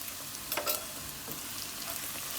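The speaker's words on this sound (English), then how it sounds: "I'm going to add the bitter ground skin and the seed. I'm going to fry another 2 minutes" Bitter gourd skin and seeds fry in a pan with a soft, steady sizzle and a couple of brief stirring scrapes, quiet and close, with no one speaking.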